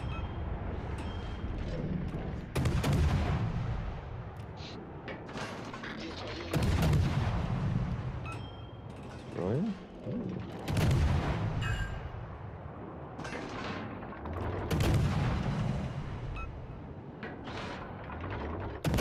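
Naval guns firing AP shells in the World of Warships: Legends video game, several heavy booming salvos spread across the clip, each with a sharp crack and rumbling tail, over mechanical game noises.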